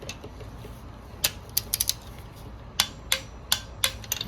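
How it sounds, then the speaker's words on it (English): A torque wrench clicks sharply several times while tightening spark plugs on a 2019 Mercedes-Benz C43 AMG, the close, crisp clicks coming in small clusters over quiet background. "Torque wrench."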